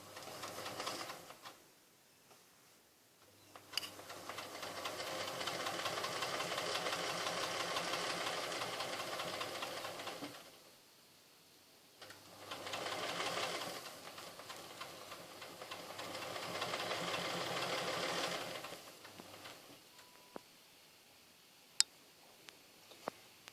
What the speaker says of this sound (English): I'm just going to start stitching slowly